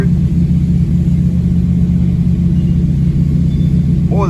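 A Mopar big-block 400 with a Holley Street Dominator intake, running hard on a dyno: a loud, sustained deep engine roar held at high revs, steady and close, with a small shift at the very end.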